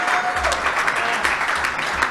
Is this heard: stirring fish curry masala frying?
no